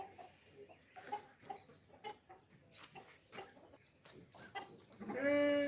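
Goats at a livestock market bleat among a busy crowd, with short calls scattered throughout and a louder, drawn-out bleat at the end; people talk in the background.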